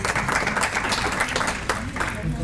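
A seated audience at a chamber of commerce state-of-the-city address breaks into brief, dense clapping that fills the room, with a speaker's voice running over it.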